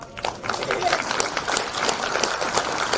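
An audience at a keynote speech by a provincial governor at a world representatives' conference claps in a dense, steady burst lasting a few seconds, fairly close and loud, with some crowd murmur mixed in.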